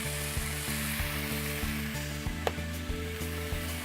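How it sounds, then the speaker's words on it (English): Sliced beets dropped into tomato sauce sizzling in a pan, a steady close frying hiss with a few soft thuds and stirring knocks as the pieces go in; no talking. "So we'll put our beets in."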